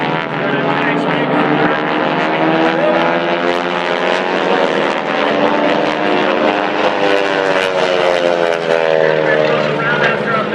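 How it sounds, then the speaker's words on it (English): A propeller airplane performs at an air show in northern Michigan, its loud engine droning steadily and close throughout, with a voice talking over it. "Flying the aircraft too."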